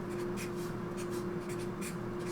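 A pen or pencil scratches steadily across paper while a fraction subtraction problem is written out, a faint, close, continuous rubbing with small strokes and no voices.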